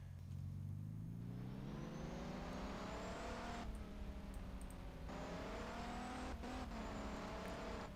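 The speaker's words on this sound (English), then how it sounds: "now we got a nicer blend between the turbo and the engine sound" Synthesized car engine sound blended with a turbocharger whine in Unity, rising steadily in pitch as it revs, with the turbo's high whistle layered over the engine drone and two brief cutoffs and restarts, loud and continuous with no talk.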